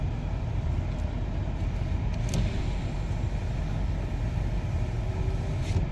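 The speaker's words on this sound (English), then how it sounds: "Car's been running for about 30 minutes." A car's engine idles at an insurance auction lot after running for about 30 minutes, a steady, close, low rumble holding constant throughout with no voices.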